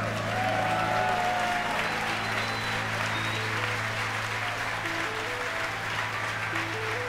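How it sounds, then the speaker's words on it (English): Continuous crowd applause and cheering in a control room during a SpaceX Falcon Heavy rocket launch, loud and sustained, with a steady engine-like hum and tonal beeps underneath. "You can hear the applause behind me as we've gotten past maximum dynamic pressure."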